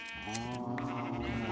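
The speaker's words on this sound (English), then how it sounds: "I'm going to shear the sheep." Sheep bleating in long, wavering cries in Minecraft while being sheared, fairly close and continuous, with a brief brighter accent partway through.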